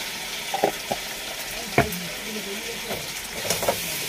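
Turmeric-seasoned food being stirred in a pan, a quiet frying sizzle with a few scraping spatula strokes and clinks against the pan, sharper knocks near the middle, no talk.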